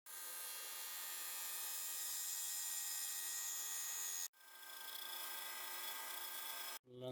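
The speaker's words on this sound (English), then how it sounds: "get a few foils and put a few grooves on the outside of it around here" A wood lathe cuts grooves into a turned wooden pumpkin box, a close, steady high-pitched shaving whine that breaks off twice as the tool lifts from the spinning wood.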